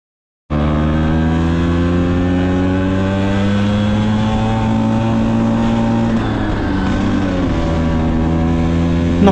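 A geared Vespa scooter engine starts up and revs loudly and steadily close by, holding a high buzzing pitch with a slight dip midway.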